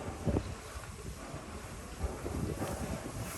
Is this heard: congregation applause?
no